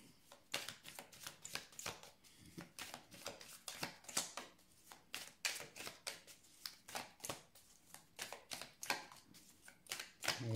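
Oracle cards being shuffled by hand, a quick, irregular run of soft riffling snaps and slaps that keeps going without pause, close and fairly quiet with no talk.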